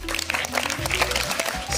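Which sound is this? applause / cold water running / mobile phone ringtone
applause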